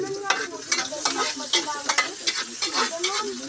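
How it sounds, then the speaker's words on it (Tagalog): Garlic and onion sizzle and fry in a pan while being stirred, with close crackling and scraping and a lively, uneven rhythm. "So ngayon magigisa na ako ng bawang sibuyas."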